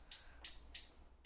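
A blackbird calling near its nest, four short, sharp, high chirps repeating at a steady rhythm, clear and fairly close against a quiet background with no talking.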